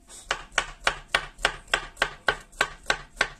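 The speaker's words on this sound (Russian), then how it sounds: "мелко-мелко ее нарезаем" Knife chopping cauliflower into small cubes for meatless patties, about eleven crisp, evenly spaced cuts against a board, steady rhythm, close and alone.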